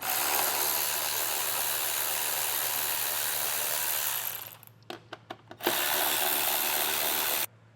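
A power tool spins out T40 Torx bolts from the grille of a 2024 Jeep, a loud continuous whir followed by several short bursts and then another sustained run that cuts off abruptly.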